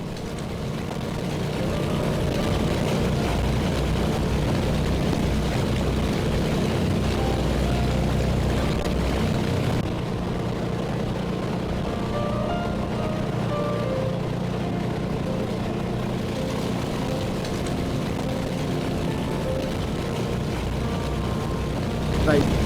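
Engines of a World War II Lancaster bomber roar in a constant loud, heavy drone that runs through the whole stretch and shifts slightly partway in, with voices talking beneath it.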